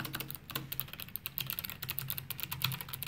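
Rapid, steady typing on a Logitech G815 low-profile keyboard with clicky switches, close and fairly quiet, a dense run of crisp key clicks with no voice over it.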